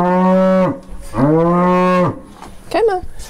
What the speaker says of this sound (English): Where'd that cow come from?